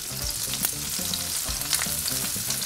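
Chicken liver sizzles and crackles steadily in a hot pan, a continuous frying hiss with low background hum beneath it.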